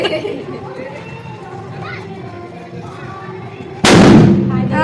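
Diwali firecrackers burst outdoors after the evening aarti, with a sudden loud crackling explosion near the end over a steady background of chatter and children's voices.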